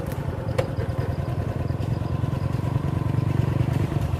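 A motorcycle engine runs nearby with a steady rough idle and fast, even thumping pulses, plus a couple of brief clicks near the start.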